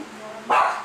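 A single loud dog bark bursts out midway through a family dinner gathering, with people talking around it.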